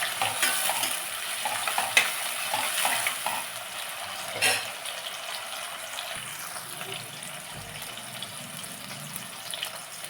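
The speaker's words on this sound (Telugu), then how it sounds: "టమాటాలు బాగా వేగిన తర్వాత మనం పేస్ట్ తయారు చేసుకున్నాం కదా, ఆ పేస్ట్ వేసుకున్నాం. ఇవన్నీ బాగా వేగిపోవాలి." Tomatoes and ground spice paste fry in a pan for a Nellore-style fish curry, a steady broadband sizzle with occasional stirring scrapes and a brief louder clatter midway, no talk.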